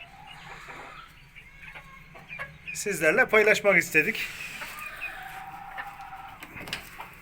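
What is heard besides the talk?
Sultan chickens clucking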